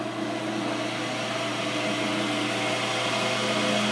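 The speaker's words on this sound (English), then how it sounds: "We'll get it started and then we'll crank the lathe speed up and see what happens." A wood lathe spinning up to turn a pen, a steady high-pitched motor whine with tonal hum bands and broadband whirring that grows slightly louder as it runs.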